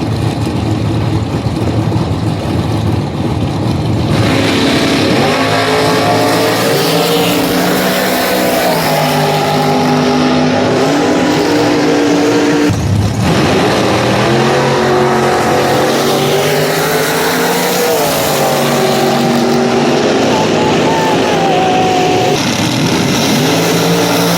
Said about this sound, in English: Dad is driving the California Duster Grand Am.